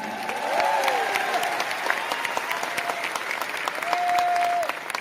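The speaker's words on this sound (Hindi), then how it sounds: "आपके लिए ये आत्मा से, दिल से ताली मार रहे हैं" Large audience clapping for an on-stage speech in Delhi, sustained dense applause from a crowd, loud and continuous with a few whoops rising over it.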